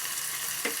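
Hot tempering for Telugu gara chutney sizzles in a steady close hiss, with a brief louder crackle near the end.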